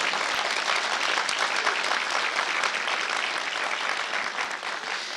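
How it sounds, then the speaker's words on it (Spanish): A church congregation applauding in unison during a Spanish-language sermon, a steady, even roar of many hands clapping for several seconds, moderately loud with no talk over it. "Denle un aplauso al Señor."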